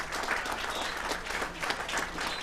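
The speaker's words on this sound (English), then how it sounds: "Let's keep that round of applause going." Applause at a golden anniversary celebration for the University of Nairobi medical class of 1978, steady dense clapping from a crowd indoors, sustained and moderately loud.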